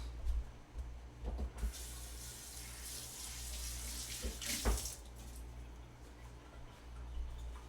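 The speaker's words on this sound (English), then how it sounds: "I'm gonna rinse this." A dish being rinsed under a running kitchen faucet: a steady hiss of flowing water with a few brief louder splashes as the dish passes through the stream, close and continuous, with no talking.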